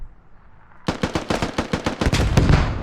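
Rapid automatic gunfire in the tactical shooter game Squad, on a Narva skirmish map, erupts suddenly after a quiet moment into a loud, fast burst of about a dozen shots that carries on to the end.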